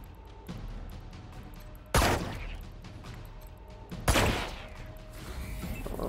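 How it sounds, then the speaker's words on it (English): Gunfire in the video game Wasteland 3 crashes out in two heavy bursts roughly two seconds apart over a rumbling combat soundscape. "And shoot this thing too."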